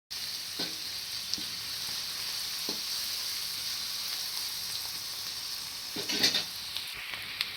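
Shredded cabbage frying on a medium flame for vegetable fried rice gives a steady, close sizzle throughout, broken by a few soft stirring scrapes and a brief louder clatter near the end.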